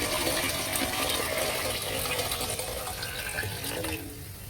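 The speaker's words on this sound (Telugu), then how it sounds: "బియ్యం కడుక్కొని వాటర్ పోసుకోవాలి." Water pours steadily onto washed rice in a vessel, a close, continuous gushing flow that eases off near the end, with no talk.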